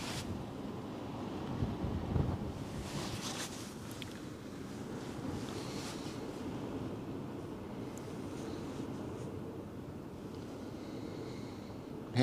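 Wind blows steadily at the Westerschelde waterfront in the Netherlands, a continuous low rushing and buffeting against the microphone with faint surf-like wash beneath.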